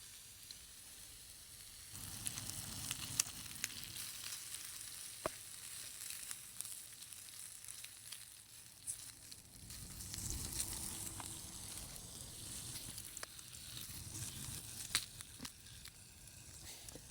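Smoked bacon sizzling and spitting in a pan over a Trangia camping stove: a steady, close, quiet crackle dotted with sharp pops throughout.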